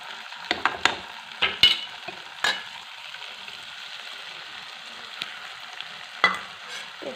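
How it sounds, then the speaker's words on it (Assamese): Spice paste for egg curry frying in oil in a pan, a low steady sizzle with a few sharp scrapes and clinks from stirring, close and alone with no talk. "এই পেষ্টটো যেতিয়ালৈকে তেল বিৰিঙি নাহে কিনাৰত, তেতিয়ালৈকে ভাজিব লাগিব ভালদৰে।"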